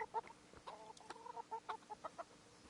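Chickens in Kingdom Come: Deliverance cluck in a quick, uneven series of short, close calls that carry on steadily throughout with no talk.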